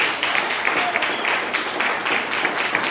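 A church congregation applauds together, a steady, dense wash of many hands clapping at close range, continuing evenly throughout without a break.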